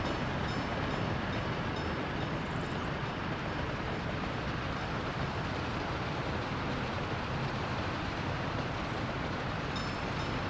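A train locomotive running in the Workers & Resources city-building game makes a continuous, even rumble and rolling hiss that holds steady throughout, with no one talking.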